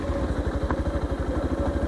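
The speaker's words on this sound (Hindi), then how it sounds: "सो यहाँ पे ऑफ रोडिंग हो रही है ऑफ रोड मोटरसाइकिल से, काफ़ी अच्छा लग रहा है।" A Yamaha FZ-X 150cc motorcycle rides off-road, its engine thumping in a fast, even pulse of low, close exhaust beats, loud and steady throughout.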